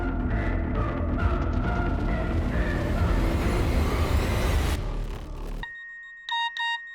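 A phone message notification tone in a crime drama scene: after a stretch of loud, busy background noise cuts out, a short run of clear, bright electronic beeps rings out close by and alone.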